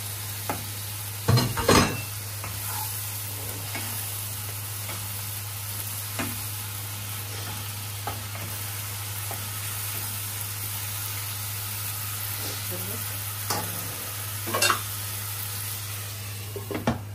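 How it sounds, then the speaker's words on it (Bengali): Hilsa fish heads fry in a pan with a continuous soft sizzle, punctuated by several loud scraping clatters of a spoon stirring them, under a steady low hum. "এখন মাছের মাথাগুলোকে কষিয়ে নিচ্ছে।"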